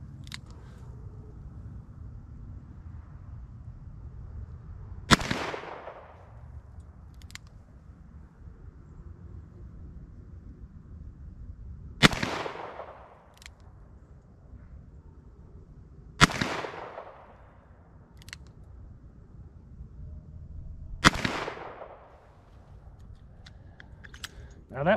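Four loud, sharp gunshots from a Smith and Wesson 686+ revolver fired single action, spaced several seconds apart, with quiet outdoor background between them.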